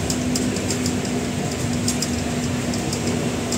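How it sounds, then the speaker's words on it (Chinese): A tram running through Milan gives a steady, even rumble with a constant electrical hum and faint mechanical rattles throughout, with no voices. "电车。"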